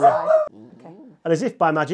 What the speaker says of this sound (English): There we go, that's the dog.